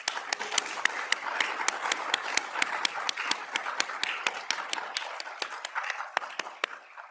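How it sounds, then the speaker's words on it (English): Applause from a conference audience at a school event, a steady wash of many hands clapping with sharp individual claps standing out, fairly close and continuous, easing slightly toward the end. "Big round of applause"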